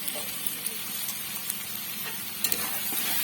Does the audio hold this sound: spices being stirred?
yes